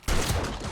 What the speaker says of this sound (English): I think that was our first SMG turret